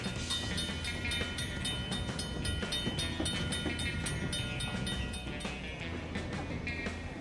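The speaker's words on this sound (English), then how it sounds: "The train then travels through the 900-foot-long tunnel below Santa Cruz's Mission Hill." Santa Cruz, Big Trees & Pacific Railway train rolling through a residential street, a steady loud rumble with metallic wheel clatter and squeal running continuously throughout.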